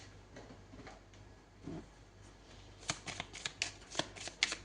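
Tarot cards shuffled by hand during a reading, a soft papery riffle that starts quiet and builds into a run of crisp, close, rapid flicks and slaps near the end.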